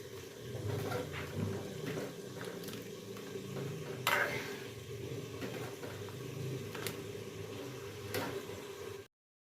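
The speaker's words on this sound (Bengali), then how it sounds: "এখন চিকেন কষা চলছে" Chicken sautéed (kosha) in a pan, a faint steady sizzle with intermittent scraping stirs and a few sharp clinks of a utensil against the pan.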